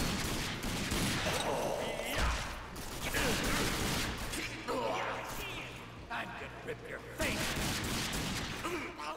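Gunfire in the RAGE first-person shooter, rapid bursts of shots and mechanical clatter layered over busy game noise, with a voice talking over much of it.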